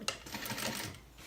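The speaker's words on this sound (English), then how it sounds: "So just fold it out a little bit, and sew right into it," A sewing machine stitches a gusset into a dress in a short quiet burst of rapid mechanical whirring and clatter, close by.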